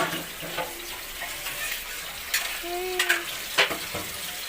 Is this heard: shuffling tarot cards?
no